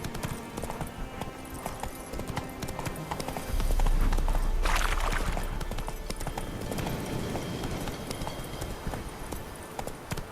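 A horse gallops in The Witcher 3 on PS4, its hooves beating a steady, rapid clip-clop throughout over a constant game background, with a brief louder swell of motion partway through.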